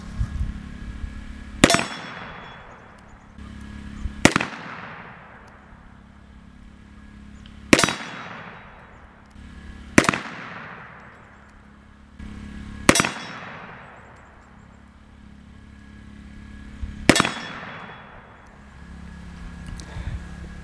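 Dan Wesson .357 Magnum revolver shots striking a steel swinger target, six sharp loud cracks each followed by a long ringing metallic clang that fades, spaced a few seconds apart outdoors.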